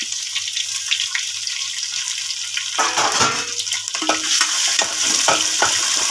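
Ginger and garlic sautéing in a pan for a Kottayam-style fish curry, a steady sizzle that swells about halfway through as the pieces are stirred, with scraping and clatter running through it.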